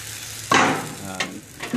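A utensil scrapes and stirs crepe batter in a frying pan close by, with a couple of brief scraping strokes over a soft background sizzle.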